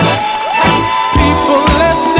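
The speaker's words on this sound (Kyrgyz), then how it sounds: "Кол чабуулар." Wedding audience in a banquet hall cheering, whooping and shouting as the couple is welcomed, loud and continuous with music playing underneath.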